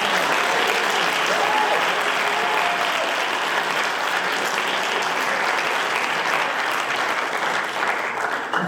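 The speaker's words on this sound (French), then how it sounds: "applaudir tous les formateurs qu'il y a dans les associations" Sustained audience applause fills a debate-final hall in Lille as listeners honor association trainers, a dense steady roar of many hands with no voices over it.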